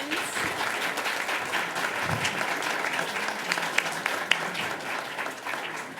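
An audience at a school board meeting applauds a high school's award, a sustained wash of many hands clapping from a crowd at moderate distance, steady and unbroken.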